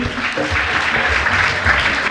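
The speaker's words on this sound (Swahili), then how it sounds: "Jamani, tusichoke kuwapa makofi, wanastahili." Continuous applause from a crowd at a secondary school graduation and certificate ceremony, dense steady clapping filling the whole moment without pause.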